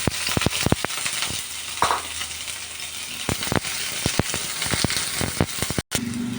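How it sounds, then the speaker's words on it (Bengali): Sliced onions frying in hot oil give a steady loud sizzle, broken by sharp ticks and clatters from a spoon or pan. "তেলটা কিন্তু দেখতেই পাচ্ছ বেশ ভালো গরম হয়ে গেছে এখন আমি এখানে দিয়ে দেব তিনটা পেঁয়াজ কেটে রেখেছিলাম"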